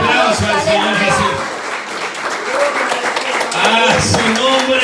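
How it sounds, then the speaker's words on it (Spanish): A church congregation applauds during a worship service, clapping that swells and fades under a loud, fervent preacher's voice that runs across most of the stretch. "Denle aplauso al Señor Jesús"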